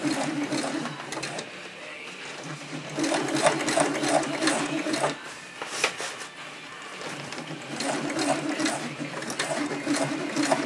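A sewing machine stitches a gusset in continuous bursts of rapid needle clatter and motor whir, pausing briefly between runs, close and clear with no talking.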